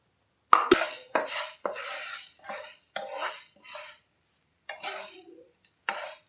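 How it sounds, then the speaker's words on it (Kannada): Coriander seeds and black pepper being dry-roasted in a pan without oil, heard as a series of close scraping stirs and clinks of a spoon against the metal, with a light sizzle between strokes. "ಸೊ ಇದನ್ನ ಚೆನ್ನಾಗಿ ಫ್ರೈ ಮಾಡ್ಕೊಳ್ಳಿ."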